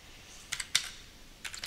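A few short bursts of computer keyboard typing are heard as a command is entered. The quick clicky keystrokes are close and fairly quiet, with a pause between the groups of keys.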